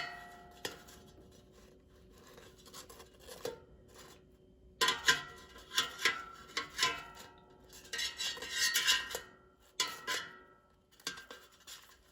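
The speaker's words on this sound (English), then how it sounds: "let's carefully flip the pieces" Pieces of French toast turned over in an air fryer basket, with scattered metallic clinks and scrapes of a utensil against the basket that come in uneven bursts, close and fairly quiet, with no talking.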